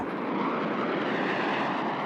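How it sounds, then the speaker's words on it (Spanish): A fighter jet flies over the Pacific during a large European air exercise, a loud, steady broadband roar that holds unchanged throughout with no voices. "48 aviones de combate y helicópteros cisterna de Alemania, España y Francia entrenan en el Pacífico con sus aliados."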